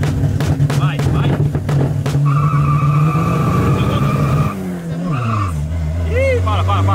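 A VW Gol Turbo revs hard and accelerates with its tires squealing, engine pitch climbing and then dropping through a gear change, while a person speaks over the noise.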